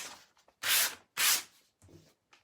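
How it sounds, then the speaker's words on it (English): Sanding furniture by hand to give it a weathered finish: two loud, sustained abrasive strokes, close by, with fainter short scrapes before and after. "So I'm going to sand first."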